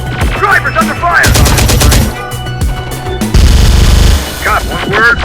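Loud bursts of automatic gunfire in the video game Terminator: Dark Fate – Defiance, with rapid rattling volleys separated by short pauses, plus clipped radio-style voice chatter between the bursts.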